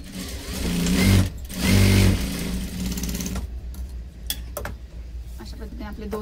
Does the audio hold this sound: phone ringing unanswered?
no